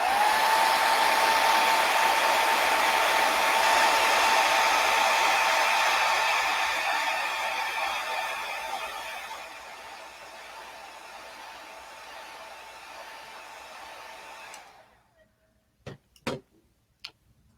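A hair dryer blows steadily to dry fresh acrylic paint on a lighthouse-at-sunset canvas, a close, loud whine that fades lower before cutting off, followed by a few faint clicks.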